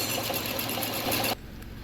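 A 2013 Subaru XV with a locked air-conditioning compressor gives a steady, rapid mechanical whirring and rattling, close and continuous, which drops abruptly to a quieter hum near the end.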